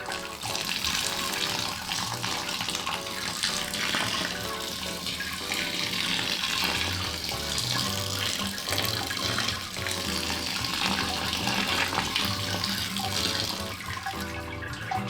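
Sparge water pours steadily over a grain bed in a Brewzilla Gen4 during a home brew day for a Christmas beer, a continuous close splashing and trickling that runs without pause and with no talk.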